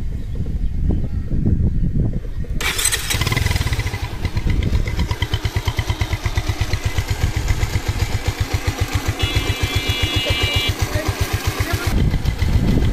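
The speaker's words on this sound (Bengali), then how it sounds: "তো গাড়ির ইঞ্জিনের সাউন্ডটা আপনাদের শোনাচ্ছি। তো গাড়িটা আমরা স্টার্ট দিচ্ছি।" A serviced Bajaj Pulsar motorcycle with freshly adjusted tappets cranks and fires up after a short stretch of quiet. Its engine then settles into a steady, loud, close idle with an even rhythmic thump and light mechanical ticking.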